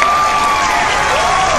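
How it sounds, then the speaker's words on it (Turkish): A canned applause sound effect, a steady, loud wash of clapping and light crowd cheering that holds evenly for a second and a half without pauses. "O alkış koyalım buraya hemen."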